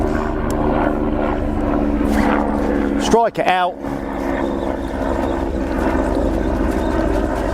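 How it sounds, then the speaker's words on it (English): A steady helicopter drone thrums overhead at a carp fishing lake while a person speaks briefly nearby. "Helicopter above."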